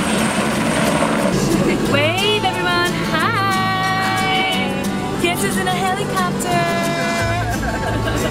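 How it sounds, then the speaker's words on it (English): A helicopter on a sightseeing tour over Reunion Island drones steadily with a low rotor hum throughout, loud and close from inside the cabin, while people talk over it. "We're going on a helicopter tour."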